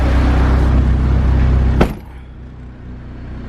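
Built K24 turbo engine in a Honda Civic EP3 on Hondata KPro, holding a loud, steady high rev before a sharp drop back to a lower, quieter idle about halfway through.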